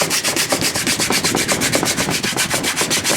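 A scuff pad is rubbed back and forth over painted metal, making quick, even, rhythmic scratchy strokes, close and steady throughout.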